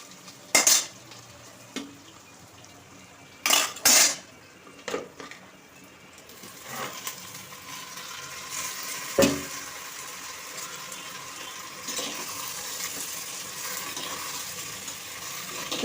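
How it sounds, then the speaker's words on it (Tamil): Ground tomato paste is sautéed in a clay pot, beginning with loud clanks and scrapes of a utensil against the pot and settling into a steady, moderate sizzle. "அதையும் போட்டு நல்லா வதக்கிக்கிறோம்."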